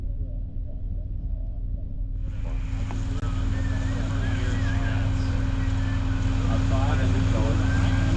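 A makeshift John Deere concrete boom pump starts up partway through, its steady engine drone and broadband machine roar running continuously and loud, with a strong low hum throughout and a brief voice at the start.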